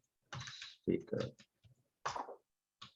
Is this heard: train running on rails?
no